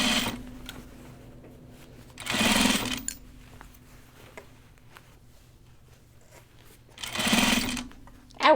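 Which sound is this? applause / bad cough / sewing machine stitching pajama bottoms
sewing machine stitching pajama bottoms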